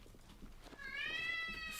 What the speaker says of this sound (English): First meow on stream of the new year.